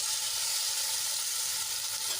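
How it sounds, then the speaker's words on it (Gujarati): Garlic and chili paste sizzles in hot oil with mustard seeds, cumin and a pinch of asafoetida. The hiss is even, close and continuous, with faint stirring underneath. "અને તેલમાં આપણે એને સરસ રીતે સાંદળી લઈશું"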